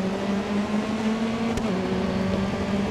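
Steady race car engine drone from the GRID Autosport racing game, a BMW running alongside, holding a constant hum at an even pitch with a brief sharp click partway through.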